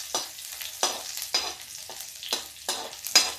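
Onion fries in a pan with cumin and garlic for a bottle gourd curry, giving a soft, steady sizzle broken by regular scraping stirs, close and moderately quiet with no voices.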